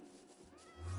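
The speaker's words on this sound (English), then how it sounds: "Aw, little kitty." A cat in the Minecraft video game gives one faint, short meow near the end, rising softly over a quiet ambient backdrop.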